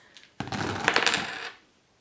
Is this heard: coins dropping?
yes